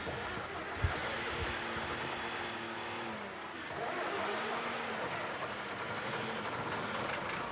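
An antiquated French digger engine catches and settles into a steady, rumbling idle, loud and continuous with a faint clunk near the start and no talking over it.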